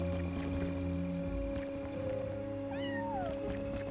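A cat meows briefly in the game Yonder: The Cloud Catcher Chronicle, a short rising and falling call heard over a steady hum of background music and ambience.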